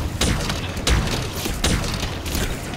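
Weapon fire in Halo Infinite multiplayer, a dense, continuous rattle of shots with heavier thumps at regular intervals, loud and up close.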